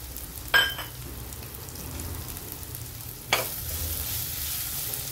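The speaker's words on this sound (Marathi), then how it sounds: "आता याला परतून घेऊ।" Leftover idli being sautéed in a pan with red chili powder, turmeric, sambar masala, chaat masala and salt gives a soft steady sizzle, broken by two sharp stirring scrapes, one early and one later.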